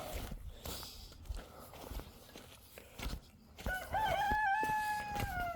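A rooster crows loudly and close by, a long wavering call near the end, after a stretch of footsteps and rustling.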